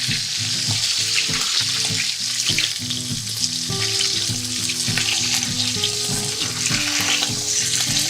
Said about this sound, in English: I always like to brown the meat first